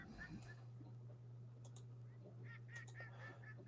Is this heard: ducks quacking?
yes